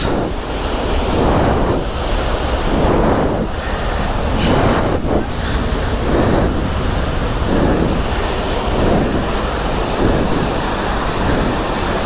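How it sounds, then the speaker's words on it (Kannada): Mookana Falls near Sakleshpur pours with a loud, continuous rush of water, while gusts of wind buffet the microphone in recurring surges. "ಸೂಪರ್ ಆಗಿದೆ ಮೂಕನನ್ನ ಫಾಲ್ಸ್"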